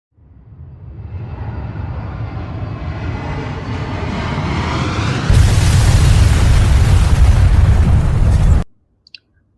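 A huge explosion builds as a rising roar, then erupts into a loud, dense blast that rumbles for several seconds before cutting off abruptly, followed by a couple of faint pops.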